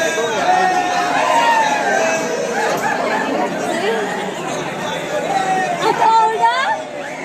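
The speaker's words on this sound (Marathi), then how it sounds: "सकाळी सात वाजता पण खूप गर्दी आहे मंडळी" A dense crowd of pilgrims at Saptashrungi temple in the early morning fills the space with a steady babble of many overlapping voices, close and continuous.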